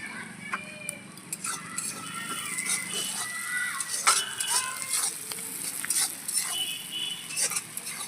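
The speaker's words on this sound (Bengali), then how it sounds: "এবার পেঁয়াজের ওপরেই দিয়ে দেবো রসুন কাঁচা লঙ্কা আর আদা কুচি ওটা দিয়েও আরেকটু সময় ভেজে নেবো" Chopped onion frying in a pan with garlic, green chilli and ginger, a steady sizzle broken by frequent stirring scrapes and light utensil clinks, close up and moderately loud.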